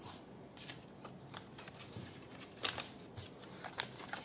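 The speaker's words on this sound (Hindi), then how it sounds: "मैं पहले एक ही पीस काटूंगी।" Scissors cutting a single layer of fabric for a small dress, with soft crisp snips and rustling of the cloth at close range, fairly faint and without talk.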